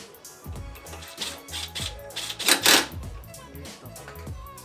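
A ratchet with a 13 mm socket tightens a bolt on a 2010 Jeep Patriot shock absorber, giving bursts of rapid metallic clicking close by, with someone talking over it.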